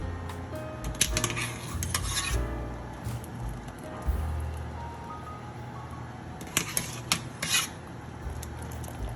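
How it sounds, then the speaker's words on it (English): Halfway cooked chickpea pasta going into a broccoli dish in a home kitchen, with scraping, rubbing and clinking of utensils against cookware, irregular bursts of clatter over a low steady background hum. "So now I'm adding the halfway cooked chickpea pasta."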